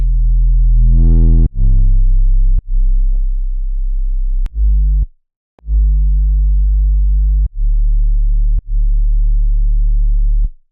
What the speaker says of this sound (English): I like how the distortion sounds in our bass.